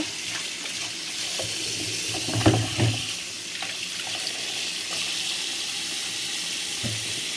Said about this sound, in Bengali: আমি পানি দিয়ে এখন ভিজিয়ে রাখবো